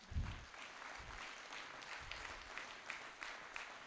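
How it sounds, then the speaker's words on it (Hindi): Audience applause at an International Yoga Day event at a university, a steady wash of many hands clapping, fairly faint and distant, with no talk over it. "जब आपकी घनघोर तालियों का सैलाब आएगा।"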